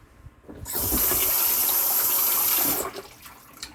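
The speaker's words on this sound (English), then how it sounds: "Rinse my hands again." Hands rinsed under a running kitchen tap during chicken prep: water gushes loudly and steadily for about two seconds, then shuts off, with quieter handling noises before and after.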